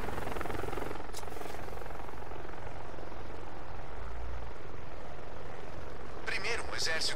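Helicopter rotors and turbine roar steadily throughout flight in Batman: Arkham Knight, a loud, dense wash of engine noise with a couple of brief sharp effects breaking through near the start and end.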